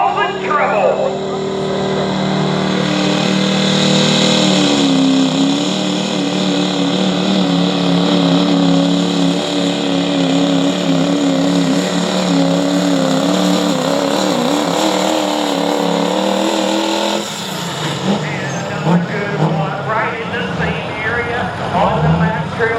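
The engine of a 2006 Chevy pulling truck named Causing Trouble roars steadily and loudly at a tractor and truck pull in Alliance, Ohio, then drops in pitch near the end, with an announcer talking over it.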